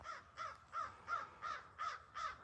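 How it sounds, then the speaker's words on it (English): Several crows caw in a steady series of about seven harsh, evenly spaced calls, fairly close and clear over quiet outdoor background, mobbing a red-tailed hawk overhead in a front yard. "That's what all the crows were just squawking at."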